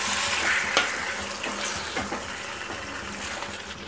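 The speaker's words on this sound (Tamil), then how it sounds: "இந்த எண்ணெயிலேயே சிக்கன் நல்லா வதக்கி விடுங்க" Salted chicken pieces are sautéed in oil for Chettinad pepper chicken, a loud continuous sizzle close up, punctuated by several scraping stirs of the spatula through the pan.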